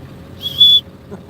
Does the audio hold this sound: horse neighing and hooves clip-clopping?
no